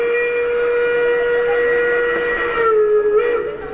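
A steam whistle sounds loud and sustained for nearly four seconds, played back through the sound system of a large scale model train, then bending slightly lower and breaking up at the end.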